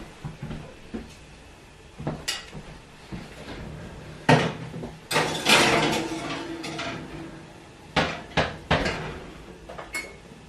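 Series of clunks and metallic bangs as a baking pan of coated potatoes goes into an oven, the pan sliding and knocking against racks, with door-like thuds scattered irregularly, close by.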